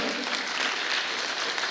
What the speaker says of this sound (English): Can we have a big round of applause for him?